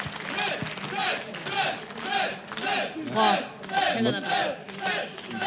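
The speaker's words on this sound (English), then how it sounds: "let's let the fans go ahead and cheer for him first" A crowd of esports fans at IEM Katowice 2015 cheers and shouts for the StarCraft II winner on stage, loud waves of yelling rising and falling throughout.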